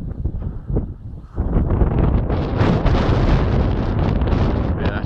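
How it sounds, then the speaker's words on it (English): Heavy wind buffets the microphone in a constant low roar, growing stronger after a moment and staying rough and loud throughout, with no talking. "Yeah, that's really windy out here."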